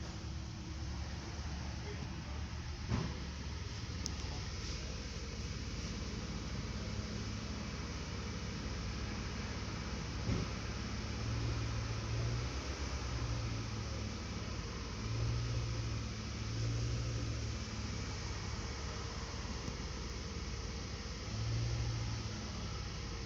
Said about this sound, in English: Let me see if I bring out the RPM higher and see if any changes.